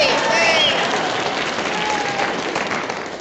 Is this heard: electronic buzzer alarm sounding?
no